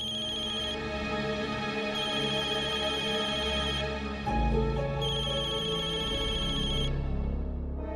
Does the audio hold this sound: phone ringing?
yes